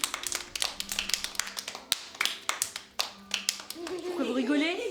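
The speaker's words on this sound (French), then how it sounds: "Applaudissez." A small audience at a shadow-and-light exhibition claps for Célestine Ombre, a burst of distinct, uneven handclaps close by that thins out as voices and a child's chatter take over.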